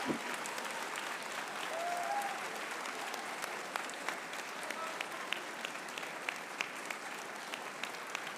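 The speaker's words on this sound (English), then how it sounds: "Let's give a big round of applause for Manu Bennett" Sustained audience applause at a comic convention panel for actor Manu Bennett, steady and moderately distant throughout, with a few sharper individual claps standing out near the end.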